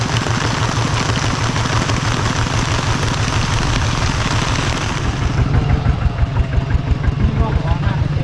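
Steady rain pattering on a surface alongside a rumbling idling engine, both loud and continuous; the tone shifts partway through as the engine note changes.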